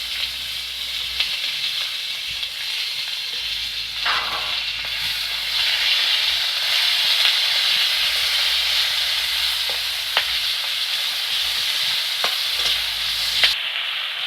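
Chopped onion and green chili fry in hot oil with dried red chilies and five-spice for a fish curry. A constant close sizzle is broken by scattered sharp clicks of stirring, with no voices.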